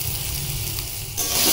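Boiled potato pieces with nigella seeds, turmeric, salt and sugar sizzle steadily in a hot pan, with a brief swell of louder frying near the end as they are stirred; no talking.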